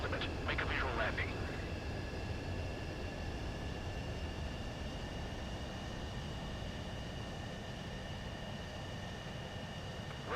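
A fighter jet touches down on a runway in the video game Ace Combat 7, a steady jet engine roar with a high whine running throughout, and a few brief tones near the start.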